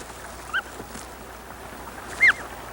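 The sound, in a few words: snow geese on Wrangel Island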